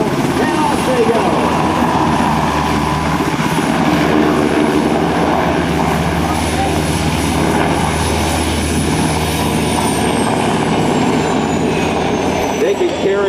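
A UH-60 Blackhawk helicopter roars steadily nearby at a joint services open house demonstration, its rotor and engine noise loud and constant throughout, with a high whine shifting near the end.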